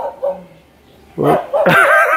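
Several sharp, loud dog barks and yips come in quick bursts around a new house, after a quieter whimpering start.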